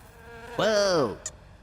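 Cartoon fly buzzing in Oggy and the Cockroaches, a single close, loud drone that swells in and glides downward before stopping, followed by a tiny blip, with no talk.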